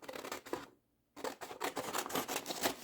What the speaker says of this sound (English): I'm going to go ahead and just cut this recipe card here that I got online